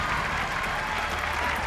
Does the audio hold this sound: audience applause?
yes